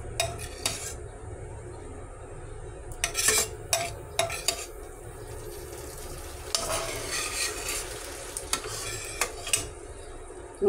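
A utensil scrapes leftover sauce from a blackened frying pan in quick bursts of scraping and metallic clinks, separated by quieter moments of faint sizzle, close and without talk.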